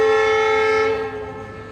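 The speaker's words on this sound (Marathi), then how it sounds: "तेजो आला बा इकडनं तेजो जाई" Tejas express train passing through a station, a loud sustained horn with steady tonal bands that slowly fades as the train moves on.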